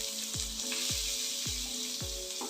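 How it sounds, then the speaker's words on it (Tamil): Onions fry in oil with cumin and urad dal for a banana flower poriyal, a bright steady sizzle broken by regular spoon knocks against the pan about every half second, close and without voices. "இப்போ வெங்காயம் ஆட் பண்ணிட்டோம்."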